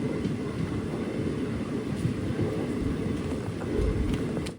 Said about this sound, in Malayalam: മുരുക്കുമ്പുഴ കഴിഞ്ഞ് ട്രെയിൻ ഇപ്പോൾ ചിറയൻകീഴ് റെയിൽവേ സ്റ്റേഷനിലേക്ക് എത്തി